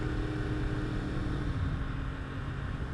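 A Yamaha R1 crossplane motorcycle engine with an aftermarket exhaust drones steadily at speed, a continuous low, throaty rumble with wind noise and no speech.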